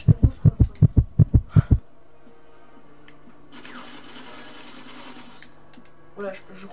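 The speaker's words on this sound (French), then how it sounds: "Vous entendez le battement de cœur?" In GoldenEye 007 on PS3, the wounded-player heartbeat pulses loudly, about nine quick low thumps in steady rhythm, before fading into a quieter game hum with a voice talking faintly.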